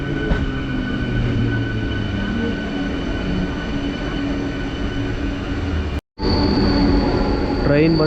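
A train arriving, with a loud sustained rumble and rattle of rail cars close by, a brief cutout near the end, then a rising squeal of wheels as it slows.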